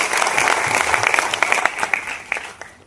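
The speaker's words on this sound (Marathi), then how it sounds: "त्यांच्यासाठी एकदा जोरदार टाळ्या वाजवल्या आहेत" An audience applauds at an award ceremony honouring a blind school headmaster, with dense, fairly loud clapping that fades toward the end.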